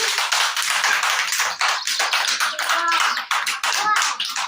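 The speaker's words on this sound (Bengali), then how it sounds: "হাততালি দাও, হাততালি দাও সবাই।" A group of children clap their hands in quick, steady, loud applause that lasts throughout, with a few brief voices mixed in.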